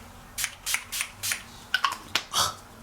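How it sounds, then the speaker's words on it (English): Makeup setting spray is misted onto a face during bridal makeup, a series of about seven short, sharp hissing pumps, close and crisp, with no talking. "setting spray."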